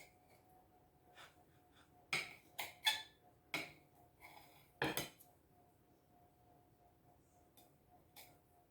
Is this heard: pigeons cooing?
no